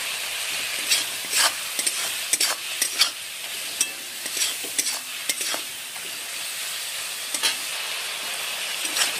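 Ginger-garlic paste fries in a pan with a steady sizzle, while repeated scraping strokes of a spoon stir it, close and fairly loud, with no voices.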